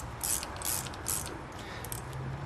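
A ratchet wrench clicks in short bursts while turning a 7/16 nut on a Corvette power steering control valve, close and fairly quiet.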